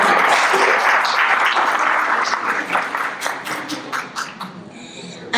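Audience applause at a national congress panel in Colombia, a dense, loud, steady clapping that gradually thins and fades over several seconds.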